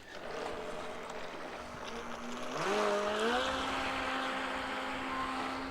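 A remote-controlled model boat, a ready-to-race Cindy Maree Trout, runs on the water with a steady whining motor whose pitch climbs and then holds. It stays at moderate distance over faint water and outdoor background noise, with no talking.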